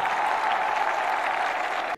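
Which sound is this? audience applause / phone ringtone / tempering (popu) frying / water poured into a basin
audience applause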